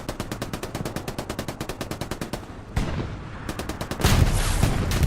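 Rapid machine-gun fire rattles in steady bursts during a Hell Let Loose tank battle between a T-34 and a Panzer IV, broken by a heavy cannon boom near the three-second mark and another loud blast toward the end.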